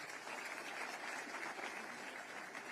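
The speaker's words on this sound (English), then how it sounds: "A round of applause to all of them." Applause for newly posted healthcare interns at an official posting ceremony, a steady, fairly faint crowd clapping that holds evenly throughout with no talk over it.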